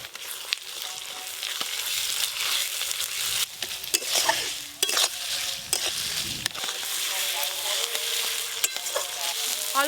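Ground spice pastes of ginger, cumin-coriander, dried red chili and turmeric with salt sizzle steadily in hot oil in a pan while a spoon scrapes and stirs in irregular strokes, close and continuous.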